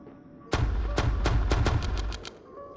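Several sharp, loud gunshots fire in a quick irregular burst in a video game, over a low rumbling background, with booming low thuds.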